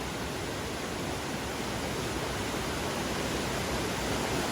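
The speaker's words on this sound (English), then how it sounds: "See a beautiful, beautiful waterfall." A waterfall beside a side trail on the Foothills Trail rushes steadily and evenly, a dense broadband roar that stays loud and unchanging with no voices over it.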